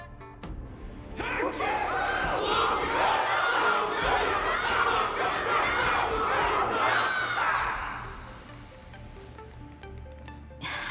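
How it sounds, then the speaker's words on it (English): Big crowd roar in Honkai: Star Rail at a Luminary Wardance battle, shouts and cheers building after a second and holding loudly for about seven seconds before dying down to a softer murmur. "Everyone's cheering for you"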